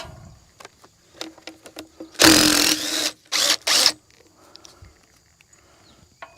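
Compact DeWalt power drill driving a short bolt on a Freightliner truck, heard as a loud whirring burst of about a second and a half followed by two shorter bursts, with faint clicks and shop noise between.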